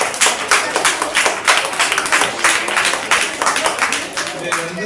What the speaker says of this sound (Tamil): கைதட்டுக்கு உற்சாகம்.